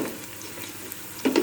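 Onion and garlic fry in a pan with a soft, close sizzle and scattered crackle, swelling into a louder burst of stirring toward the end.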